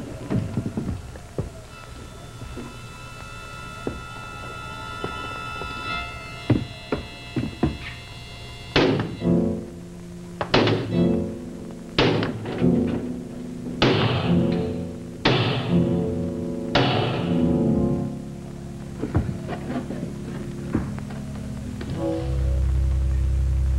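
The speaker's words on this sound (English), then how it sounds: "Well, hammer on the lock." In a 1951 television drama, someone pounds on a locked door's lock with a series of heavy, uneven thuds and knocks, close and loud, after a stretch of quieter clunks over a low background hum.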